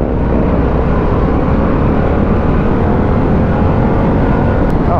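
A Harley-Davidson Pan America adventure motorcycle in sport mode gives a loud, steady engine drone that pulls harder with throttle, carried over constant wind rush from a close, onboard position.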